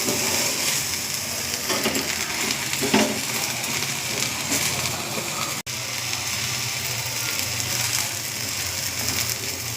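Pesarattu batter with green chillies fries in oil, giving a steady dense sizzle with faint crackling, close and continuous, with a brief dropout midway.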